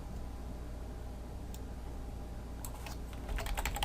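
Light keystrokes on a computer keyboard tap quietly under a steady background hiss, growing denser and a little louder in a quick burst toward the end.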